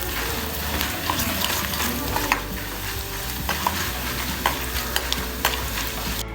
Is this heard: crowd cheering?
no